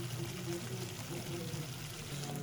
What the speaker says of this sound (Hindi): ये 4 चम्मच मेरे पास करीम है, ये डालेंगे।